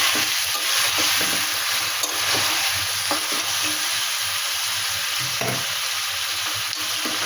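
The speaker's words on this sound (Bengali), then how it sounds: "এবারে আস্তে আস্তে এটা ভালো করে কষাই করে নেব।" Marinated chicken sautés in a pan, a loud close sizzle with repeated scraping stirs of a spoon against the metal over several seconds.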